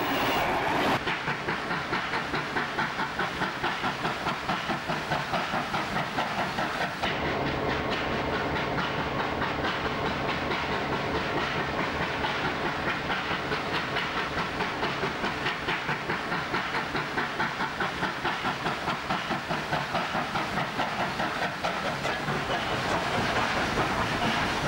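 Steam locomotive 3810 hauls a train from Goulburn back to Sydney, a loud, steady chuffing beat with hiss and rhythmic clickety-clack of the carriages, continuous and close, with no talk.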